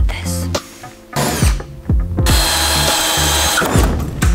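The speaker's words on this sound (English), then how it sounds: "Now Brian is going to drill out the rivets." A power drill bores out rivets in the metal skin of a school bus being converted, with repeated short bursts of loud, close whining separated by brief pauses, then a longer steady run of drilling.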